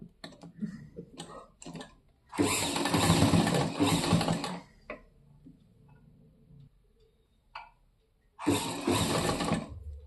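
A sewing machine top stitching around a blouse edge fitted with invisible piping runs in two close, loud bursts, a longer one and then a shorter one, with quiet handling and light clicks in between.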